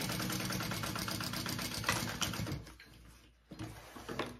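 Sewing machine stitching a vinyl crossbody bag closed, a fast rhythmic mechanical whirr that runs steadily, then stops and restarts in short bursts, close and moderately loud, with no talking.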